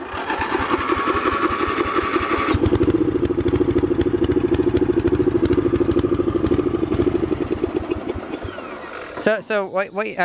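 A small propane-fuelled engine chugs in a rapid, rattling rhythm, loud and close, then shuts down near the end while someone talks over it.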